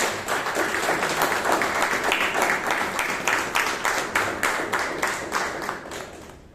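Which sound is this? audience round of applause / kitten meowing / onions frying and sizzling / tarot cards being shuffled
audience round of applause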